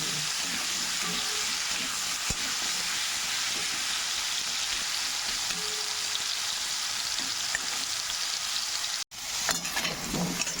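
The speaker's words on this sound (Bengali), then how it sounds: "এবার আলু ভাজা হয়ে গেছে," Potatoes frying in oil in a pan sizzle with a dense, steady crackle, interrupted once by a brief near-silent gap before the sizzle resumes; no talking over it.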